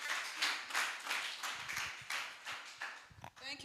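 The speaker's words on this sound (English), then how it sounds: "A round of applause for her, please." Audience applause at an export summit, a fairly quiet but continuous clatter of many clapping hands that heard from a distance, thinning out near the end.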